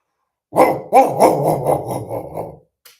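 A dog barks several times in quick succession, loud and close, then a short final yip after a pause.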